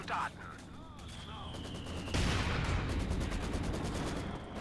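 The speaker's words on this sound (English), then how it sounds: "There's the stolen Maxim, keeping the centre, suppressing the conscripts." Distant machine-gun bursts and scattered gunfire from a Maxim in a real-time strategy battle, rapid rattling volleys that grow denser partway through, heard under a game's battle noise and commentary.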